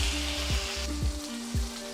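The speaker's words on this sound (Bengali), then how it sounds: "বুটটা ভাজা রেডি হয়ে গেছে।" Chickpeas frying in a pan sizzle loudly and steadily, broken by several rhythmic scraping stirs about half a second apart, close up with no talking.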